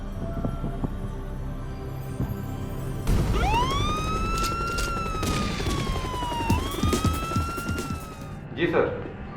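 Ambulance siren wailing nearby, a rising and falling tone that sweeps up and down over a busy background with scattered thumps, fading near the end.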